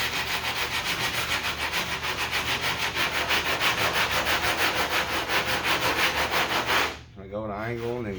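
A car body dent is sanded with 80 grit sandpaper in a steady, loud, rhythmic back-and-forth rasp that runs close for about seven seconds before stopping abruptly.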